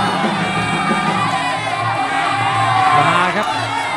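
Crowd at a Thai Fight muay thai bout cheering and shouting in rhythmic waves, loud and close, with a commentator talking over the roar throughout.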